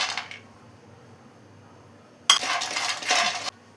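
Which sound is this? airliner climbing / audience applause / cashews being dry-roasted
cashews being dry-roasted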